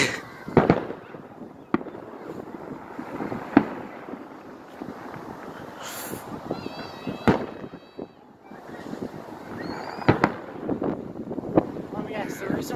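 New Year's fireworks pop and crackle at a distance with scattered sharp bangs and whistling rockets, under wind noise and people chatting nearby.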